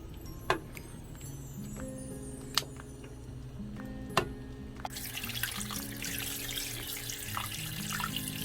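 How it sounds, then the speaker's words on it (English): Cold tap water pours steadily into a kitchen sink while chicken legs are washed, with a few sharp clinks over soft background music and the flow growing louder midway. "Wash in the cold water."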